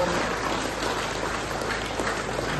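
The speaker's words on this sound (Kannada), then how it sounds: "ಚಪ್ಪಾಳೆಯ ಮೂಲಕ ಅವರಿಗೆ ಪ್ರೋತ್ಸಾಹವನ್ನು ಕೊಡಬೇಕು" An audience claps steadily and continuously to encourage a young girl attempting ten yoga rounds in one minute, a dense, even wash of applause with no break.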